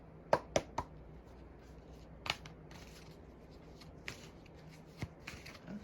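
Oracle cards are shuffled by hand up close, a soft papery riffle broken by several sharp taps and slaps, quiet overall and with no talking.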